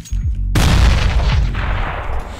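A loud gunshot boom in Counter-Strike, hitting hard after a brief silence and ringing out with a long rumbling tail across the rest of the moment, with no talking.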